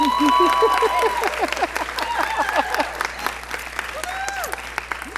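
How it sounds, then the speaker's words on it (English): A room full of people applauds, dense steady clapping with a few cheers and voices rising through it. "Round of applause."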